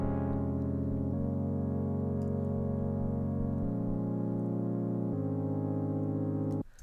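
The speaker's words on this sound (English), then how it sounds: "I'm just gonna make a suspended pad sound." Basic suspended pad made on a software synth, holding four sustained chords in turn, each lasting over a second, with a rich, even buzzy tone and no talk.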